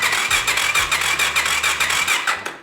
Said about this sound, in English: so we got it cranking on its own the way it's supposed to be